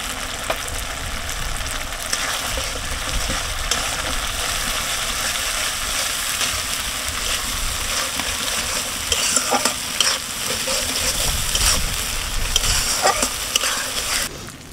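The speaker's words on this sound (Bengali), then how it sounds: "মশলা থেকে তেল ছেড়েছে, আমার মশলাটা কষানো হয়ে গেছে।" Spices and chicken masala frying in oil while being stirred, giving a loud continuous sizzle with scraping stirs close by, and no talking.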